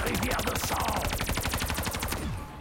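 Rapid automatic gunfire from a Black Ops 3 zombies match, a dense, steady burst of shots that is loud and close, running continuously before tapering off at the end.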